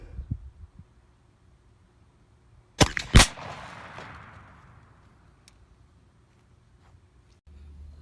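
A 3-inch .410 shotgun with a super full TSS turkey choke fires Winchester Diamond Grade 3/4 ounce turkey loads outdoors: two sharp, loud reports close together, then a fading rumble and quiet.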